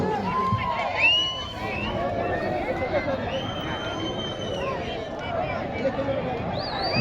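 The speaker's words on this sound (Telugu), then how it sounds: "గట్టిగా కేకలు, విజిల్స్," A crowd at a senior-category bullock pulling contest in Yemmiganur, with loud continuous shouting and babble, sharp whistles rising above the roar, and hurried movement throughout.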